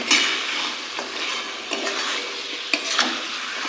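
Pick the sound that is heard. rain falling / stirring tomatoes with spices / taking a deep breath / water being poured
stirring tomatoes with spices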